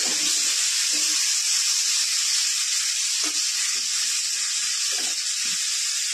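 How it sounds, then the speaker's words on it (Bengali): Small cut potato pieces frying in a pan, a bright steady sizzle close up with a few soft low bumps of stirring beneath, continuous throughout. "এবারে আলু দিয়ে দিচ্ছি, আলুটা ভেজে নেব।"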